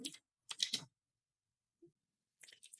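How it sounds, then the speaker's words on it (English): Bursts of computer keyboard typing as a prompt is entered, two quick clusters of keystrokes, a pause with a faint tap, then another run of clicks, close and fairly quiet with no talking. "So I can just type it right here."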